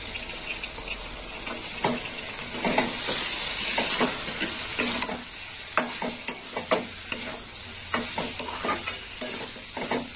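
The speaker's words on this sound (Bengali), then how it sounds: "টমেটোটা এর সঙ্গে কষা হবে" Chopped tomato with turmeric and spices fries in a pan for an egg and capsicum dish, giving a constant bright sizzle under repeated scraping and clinking stirs from a spatula, close and steady.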